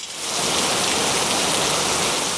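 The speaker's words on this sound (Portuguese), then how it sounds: "caiu chuva forte, levando tudo em volta" Heavy rain falls steadily and loudly as a dense, continuous wash that starts within the first half second and holds constant with no voices.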